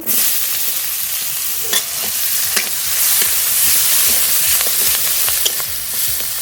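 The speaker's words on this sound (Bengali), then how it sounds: "পেঁয়াজটা একটু হালকা করে ভেজে নেব" Chopped onions fry in hot oil with black cumin and bay leaf for boal fish kalia, giving a steady, loud, close sizzle broken by occasional spatula scrapes and taps, no talking.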